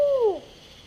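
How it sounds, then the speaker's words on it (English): An owl near Bellamy Bridge gives a single loud, close hoot at night with a downward-sliding pitch, fading within half a second into quiet background. "That was either an owl or a Bigfoot."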